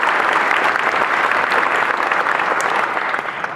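A class applauds after a graduation speech in Sweden: dense, steady clapping that holds at full strength and tapers slightly at the end, with no voices over it.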